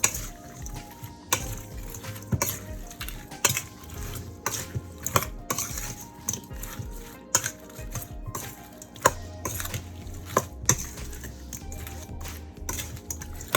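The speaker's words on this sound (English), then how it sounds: "I got my big spoon and we're gonna mix this up" A big spoon stirs onions, tomato and sweet pepper in a pot for jerk shrimp and grits, a steady series of close clicks and scrapes against the pot with soft wet sizzling between them, no voices.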